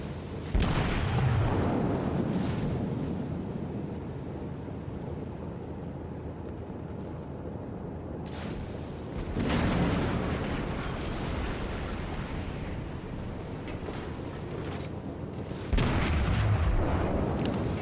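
Heavy booming blasts from a battleship bombardment in the World of Warships naval game, landing as three loud surges around a steady rumbling roar, with no talking.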